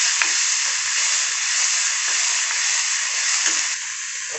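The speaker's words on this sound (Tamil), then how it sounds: "உளுத்தம்பருப்பு செவந்த அப்புறமா பூண்டு, வெங்காயம், அதுக்கப்புறமா நல்லா வதக்கி விட்டுருங்க" Garlic and onion sauté in a pan after urad dal has browned, while ivy gourd chutney is being made: a constant, close, bright sizzling hiss with faint stirring taps underneath.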